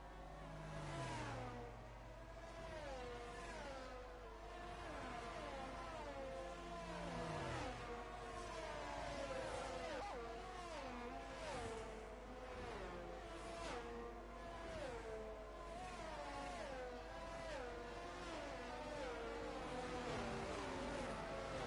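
Racing video game cars bunched together behind an Aston Martin safety car at the Australian GP, a dense overlapping drone of engines with rising and falling revs, steady and loud throughout.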